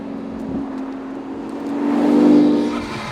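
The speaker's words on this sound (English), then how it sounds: "allowing the sound of that M150A AMG V12 to flood the utterly awe-inspiring cabin" A Pagani's M150A AMG V12 engine hums steadily from inside the cabin, then swells into a deeper, louder drone as it revs up before easing slightly.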